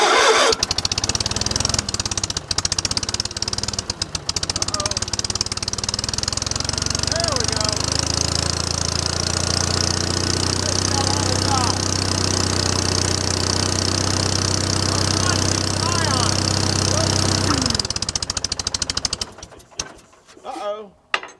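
Small engine on a cold day in the low 30s, started with choke then running steadily and loud for about fifteen seconds before cutting off, with birds cooing faintly in the background and no talk.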